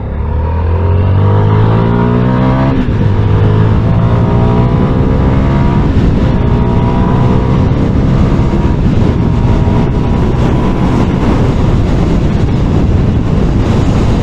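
A CFMOTO 300NK small-displacement motorcycle pulls hard from about 30 to 100, its engine note loud and steady, rising in pitch through the gears with a brief shift dip early on, over continuous wind roar and no talking.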